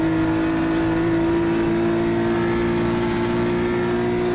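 A race car engine holds a steady, high drone at full throttle down a long straight, loud and close from onboard, with constant wind and road noise underneath.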